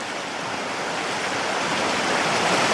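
A river at Stonthwaite in the Lake District rushes past during a crossing on foot, a steady, close, full-bodied wash of flowing water that swells slightly toward the end, with no voices.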